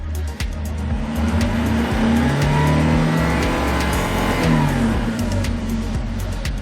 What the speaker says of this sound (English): Perfect acceleration. The RPMs are going very smoothly.